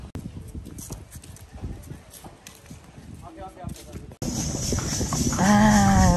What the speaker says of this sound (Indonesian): Kita muter-muternya naik andong.